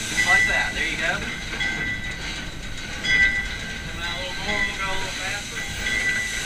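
Steam locomotive starting to move from the cab, a loud hissing steam rush with rhythmic chuffing and clanking, a person speaking over it.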